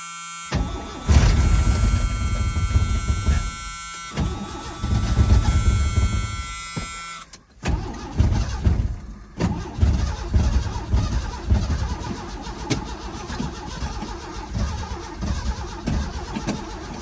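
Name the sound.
vehicle engine cold starting and idling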